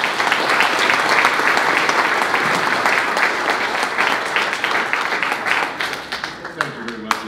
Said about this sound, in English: Ladies and gentlemen, from the other side, nice round of applause.